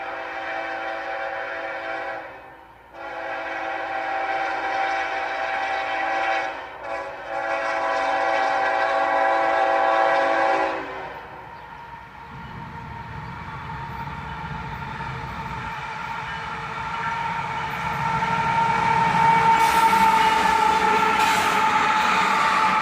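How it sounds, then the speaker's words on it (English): A manifest freight train led by ES44ACH and ET44AH locomotives rolls past close by, loud and steady, its horn sounding, with the rumble shifting as the lead units go by and the cars follow. "A manifest train, led by an ES44ACH and an ET44AH."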